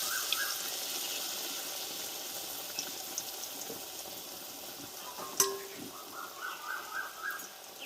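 Shiuli leaves dipped in batter fry in hot oil, giving a steady soft sizzle and bubbling close by, with a few small clicks and taps from handling in the pan.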